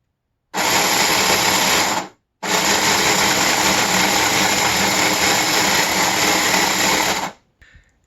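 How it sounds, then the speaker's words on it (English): A powered claw finger mechanism for a work loader runs on a wooden workbench, a loud steady mechanical whirring rattle in two long bursts separated by a short pause, then a brief faint clatter at the end. "it's not going to end up being that noisy because right now it's on the wooden workbench and rattling around"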